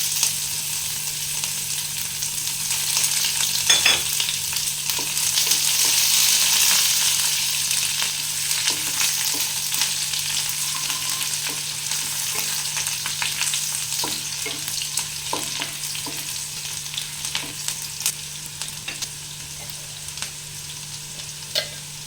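Whole cumin seeds and chopped onion frying in oil for chana masala, a strong steady sizzle with occasional spatula scrapes and light knocks against the pan.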